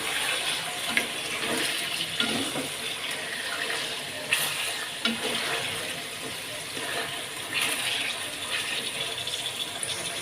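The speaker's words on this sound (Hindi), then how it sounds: "अब साथ ही हम ये करी पत्ता इसमें ऐड कर देंगे और इसको भी चिकन के साथ ही हम लोग फ्राई कर लेंगे।" Chicken sizzling and frying with curry leaves in a karahi for a black pepper chicken karahi, a steady hiss and crackle with scattered pops throughout, close and fairly loud, with no talking.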